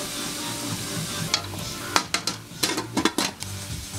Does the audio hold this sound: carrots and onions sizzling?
yes